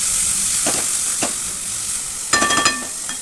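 Soaked moong dal hits hot oil in a pan for methi moong dal sabji, giving a steady close sizzle with a few sharper crackling bursts and stirring scrapes; no one speaks.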